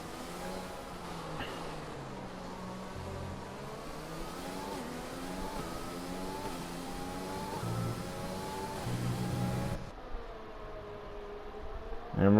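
A Mercedes AMG Formula 1 car in the F1 2020 video game at the British Grand Prix, its engine note climbing and dropping through gear shifts in a steady, loud whine.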